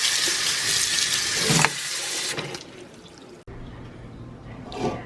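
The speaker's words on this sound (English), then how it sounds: "Drain and rinse." Running tap water gushing loudly over vegetables being rinsed and drained in a sink, the stream cutting off partway, followed by quieter splashes and drips before a brief final burst of water.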